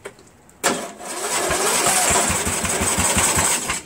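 A lawn tractor riding mower engine cranks and catches after a short pause, settling into a loud, close, throbbing idle with a rapid pulsing rhythm.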